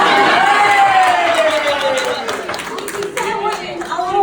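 Crowd at a wedding reception clapping and cheering for a singing-competition winner about to perform, a broad wash of applause with whoops under a voice speaking over it, loud and close, easing slightly toward the end.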